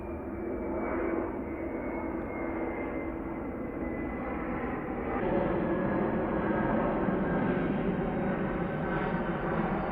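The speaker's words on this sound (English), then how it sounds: "now that the plane is gone" An airplane passes overhead as a loud, continuous engine roar that swells slightly midway and holds steady to the end, with no speech.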